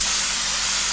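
A paint spray gun blasts thinner out in one steady, loud hiss of compressed air lasting about a second, with no voices.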